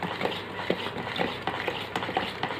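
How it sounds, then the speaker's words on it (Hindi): A spoon stirs a gond katira and tukhm malanga sharbat in a glass or jug, giving repeated light clinks and swishes at an uneven rhythm, close and clear with no talk. "इसको मैं अच्छे से स्टर कर लेती हूँ"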